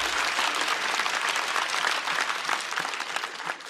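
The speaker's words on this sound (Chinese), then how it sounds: "再次掌声送给小雪。" A studio audience at a stand-up comedy show breaks into sustained, dense applause that fills the whole stretch, loud and even with no talking over it.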